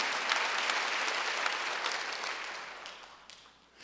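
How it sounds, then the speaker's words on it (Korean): A church congregation applauds during a Wednesday worship service, with a full, steady round of clapping from many hands that gradually thins and softens toward the end. "박수가 한번 드리세요"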